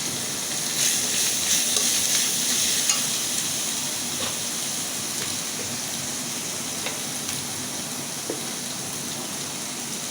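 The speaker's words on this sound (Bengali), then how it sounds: "মশলাটা ভালো করে কষিয়ে নেব" A chili and spice paste sizzles and fries in a pan for pad-like cooking of a river pangas fish curry, with a steady close hiss and occasional scraping stirs throughout.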